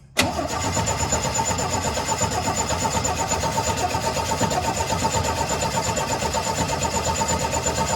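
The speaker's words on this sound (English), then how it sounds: "All right, turn the motor over." A 1972 Chevy C10 engine cranks over steadily and loudly for the whole stretch, a continuous rhythmic churning with no clear catch or idle, close by and without talk.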